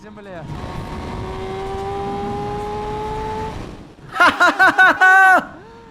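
MV Agusta Brutale 1000RR hypernaked motorcycle accelerating hard at over 200 km/h in third gear, with a loud, sustained rising engine whine and wind roar, then a burst of sharp gear-change revs near the end.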